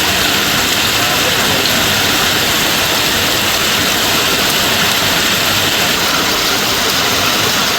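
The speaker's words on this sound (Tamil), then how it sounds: "தாம்பரம், குரோம்பேட்டை உள்ளிட்ட புறநகர் பகுதிகளிலும் மழை பொழிவை காண முடிந்தது" Heavy rain pours down steadily over suburban Chennai streets, a dense, continuous roar of water without a break.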